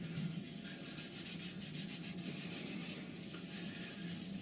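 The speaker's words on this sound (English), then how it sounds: "Wipe it in by hand, making sure you drive it into the grain." Liming wax is rubbed by hand into the grain of a turned wooden piece on a stopped lathe, giving a faint, steady rubbing and scuffing close by.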